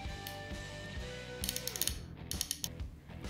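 A Hazet extra long flex-head ratchet with coarse 30-tooth mechanism clicks close up, a quiet run of sharp ratcheting ticks in uneven bursts over a low mechanical rasp.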